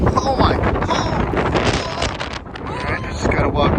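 Strong wind buffeting a microphone on a mountain saddle along the Guadalupe Ridge Trail, a loud continuous rumbling roar with gusty surges throughout and no talk.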